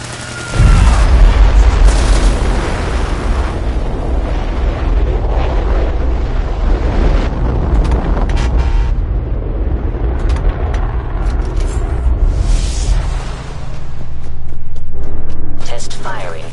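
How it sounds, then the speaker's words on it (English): A rocket engine test firing in Fallout 4 roars in with a sudden boom and then a sustained, loud, rumbling blast that persists for many seconds, swelling again near the end. "Engine firing."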